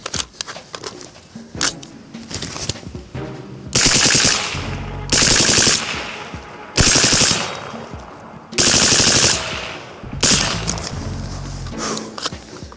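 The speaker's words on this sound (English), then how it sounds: "So we'll do some bursts on that, kind of transition between the two and see how controllable it is." RECCE LMG-L rifle firing suppressed full-auto bursts outdoors, five or six loud rapid bursts of a second or so each, separated by short single shots and metallic clatter, close to the listener.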